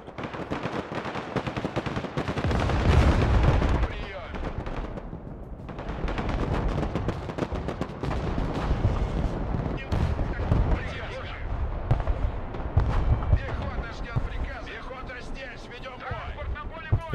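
Mortar and artillery fire in the Broken Arrow military strategy video game, with heavy booming blasts and repeated gunfire rumbling continuously throughout, a strong low burst near the start, and a voice talking over the battle.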